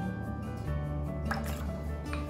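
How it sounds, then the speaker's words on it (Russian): Squeezed lemon and lime juice poured into a salad bowl, a short run of dripping and splashing liquid with a soft squish, close and fairly quiet. "Я выдавила лимон и лайм. Все вместе выдавила и сюда вливаем."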